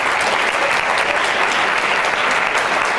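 A large audience at the All-Ireland Maternity and Midwifery Festival Awards ceremony applauds, a dense, steady wash of clapping that fills the whole stretch at full loudness with no talk over it.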